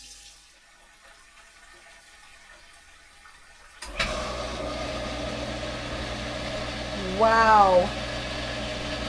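A jet water pump powered by a Bluetti Elite 200 V2 portable power station kicks in partway through, a steady close rushing hum that replaces near silence and runs on with a brief exclamation over it.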